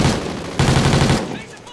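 Rapid bursts of gunfire from Call of Duty: Ghosts multiplayer, dense and loud, with a short pause then a second volley that tapers off.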